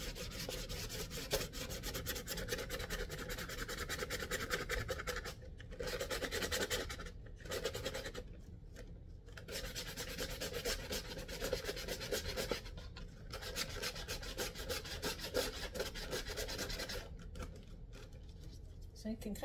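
Repeated rough rubbing strokes of a sanding block on wood, scratchy and rhythmic, with brief pauses between passes, close up.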